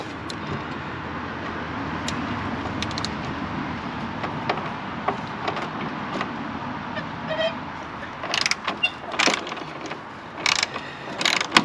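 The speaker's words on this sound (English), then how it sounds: "And then I've got my socket wrench to loosen it up." A socket wrench ratchets on a nut of a Toro TimeCutter mower while the discharge chute is being replaced, giving repeated close clicking strokes that grow louder and sharper toward the end, with no talk.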